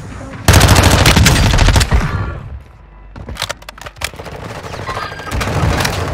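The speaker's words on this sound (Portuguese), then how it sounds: "dois caras atirando em mim" Bursts of rapid automatic gunfire from enemies in a shooter game set on Ashika Island, loud and close, with dense volleys, pauses and scattered single shots.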